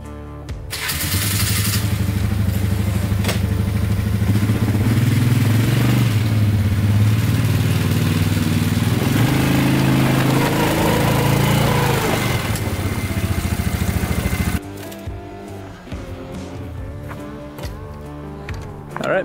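A Polaris Scrambler 500 4x4 quad, bought as a fixer-upper, runs loud and close with a steady buzzing engine note and mild revving for most of the stretch, then cuts to quieter ambient sound near the end.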